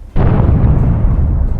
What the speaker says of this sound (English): just one drone hit makes them explode like a firecracker